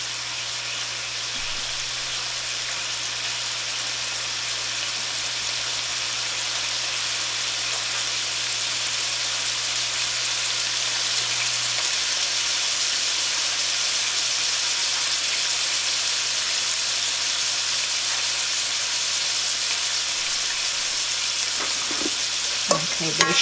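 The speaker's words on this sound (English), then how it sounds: "Right now, I'm just stirring the noodles." Shrimp lo mein noodles stirred in a hot pan, a steady broadband sizzle running unbroken and fairly loud throughout, with a low hum beneath and a few sharper scrapes near the end.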